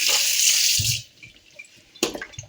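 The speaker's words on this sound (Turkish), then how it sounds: "Yıkamıştım ama tekrar şöyle üstten bir suda yıkayayım." Tripe being rinsed under a running tap for tripe soup, a steady gush of water for about a second followed by a pause and a second splashing burst, close and fairly loud, with no talk.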